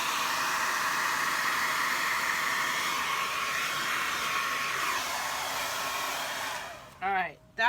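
A hair dryer blows a steady, loud broadband rush over a fresh acrylic paint pour, its tone shifting slightly as it moves, then cuts off near the end with brief bursts.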